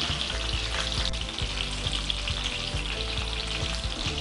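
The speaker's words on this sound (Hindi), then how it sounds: "देखिए फ्रेंड्स, चिकन के पीसेस फ्राई हो रहे हैं" Chicken 65 pieces frying in hot oil over low to medium flame, a steady dense sizzle with small popping crackles running throughout, close and loud with no talking.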